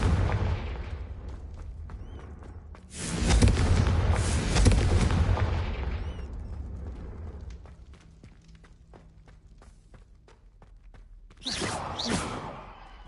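Confringo fire-blast spells explode in Hogwarts Legacy, with a heavy booming burst followed by rumbling decay and a second, shorter blast near the end.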